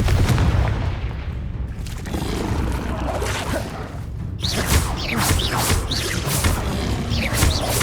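Confringo blasting curse going off in the Hogwarts Legacy video game, a loud booming burst followed by crackling, whooshing magical blasts layered over a dense, continuous game soundscape.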